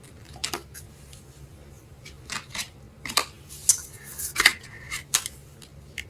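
Oracle cards being shuffled by hand, soft scattered slaps and riffling bursts at irregular intervals over a quiet room hum, close and fairly faint.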